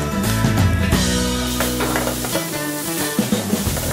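Crushed shallots sautéing in a pan for a Kerala crab roast, giving a steady sizzle and frying crackle along with stirring, loud and close throughout.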